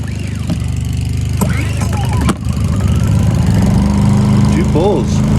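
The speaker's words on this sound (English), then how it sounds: "Okay, we're gonna go ahead and pull start this thing." A Harbor Freight Predator 2000W portable generator is pull-started, with a few sharp recoil pulls before the small engine catches and settles into a steady running drone, close by.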